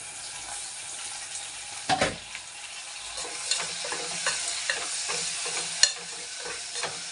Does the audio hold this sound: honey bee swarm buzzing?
no